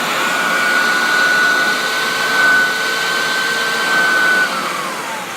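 A Hoover Turbopower Junior U1100 vacuum cleaner with weak suction runs after being switched on, its loud, close motor whine holding a steady pitch and fading slightly near the end, alone with no talk.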